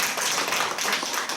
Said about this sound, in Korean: 이제 박수 좀 부탁드립니다.